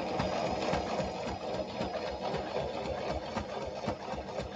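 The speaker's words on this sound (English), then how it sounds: "Do the same stitch, locking stitch first, and then top stitch along that." A sewing machine runs steadily, stitching technician coveralls with a locking stitch and then a top stitch, giving a close, continuous whirring hum with no speech over it.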